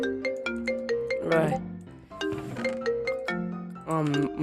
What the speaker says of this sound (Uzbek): Voy, kim telefon qilyapti?